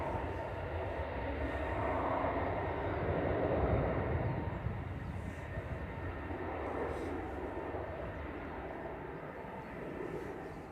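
An EasyJet airliner departing Manchester Airport for Tenerife gives a continuous low, roaring engine rumble that swells and then slowly eases, sustained and fairly distant throughout.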